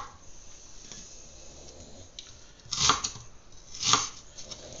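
A knife cuts through an onion on a cutting board while farmer sausage stir fry is being prepared, giving two distinct, fairly close chops about a second apart over a quiet room.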